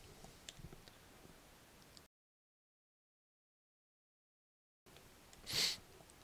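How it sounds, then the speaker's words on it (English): A single sharp human sneeze near the end follows quiet breathing and sniffing, close to the microphone and alone after a gap of silence. "Hold on, I gotta sneeze."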